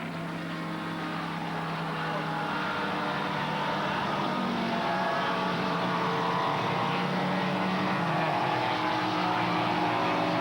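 Sports prototype racing cars, including a Ferrari and a Pilbeam, roll through the final corners at Brno on a wet track to take the green lap, with a dense, continuous engine drone and rushing spray at moderate distance.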